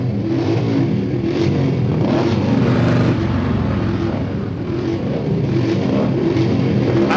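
Monsieur Buvolari's motorcycle runs with a loud, continuous engine drone that holds steady and near throughout, with slight surges in pitch.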